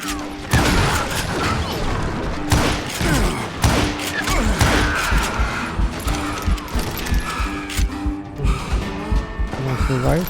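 Sharp gunshots crack in bursts during a Call of Juarez: Gunslinger western shootout, loud and close, mixed with clanking mechanical clatter and dense action noise.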